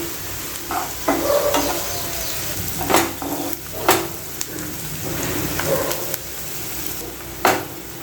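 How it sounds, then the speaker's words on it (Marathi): Chopped onion with a little salt fries in a pan until soft, giving a loud, steady sizzle broken by repeated clanks and scrapes from a stirring spoon against the pan. "हा कांदा आपल्याला मऊ होईपर्यंत फ्राय करायचा आहे"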